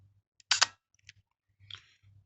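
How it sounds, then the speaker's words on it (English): A Pentax auto 110, a tiny 1978-1985 interchangeable-lens SLR, fires its shutter with a quiet double click, followed by softer clicks and a brief rasp of the film advance, all close and isolated against near silence. "And here's the sound of the shutter again."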